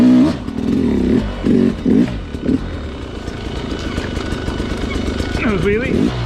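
A Sherco dirt bike rides an extreme off-road loop and does a nose wheelie, its engine droning and revving up and down nearby amid rattling and clatter, with a rider's voice over it.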